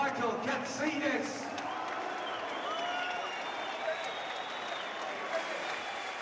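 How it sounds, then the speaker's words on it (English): Boxing arena crowd after a fight, a broad roar of applause, cheering and scattered whoops from a large audience, fairly distant and steady throughout, with a commentator's voice partly over it. "please, a round of applause for a warrior, Michael Katsidis."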